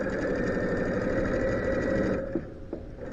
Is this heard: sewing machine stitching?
yes